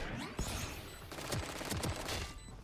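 Bursts of Vandal rifle fire from Valorant, several sharp rapid shots crackling in quick succession over a busy game soundscape, loud and close, with no talking.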